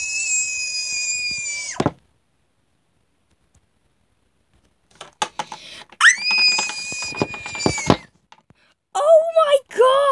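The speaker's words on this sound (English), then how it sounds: "Why are you screaming?" A child's high-pitched screams in a cartoon playground scene ring out loud in two long sustained bursts with a sharp pitch drop at each end, separated by silence, then broken squeals and excited voices follow.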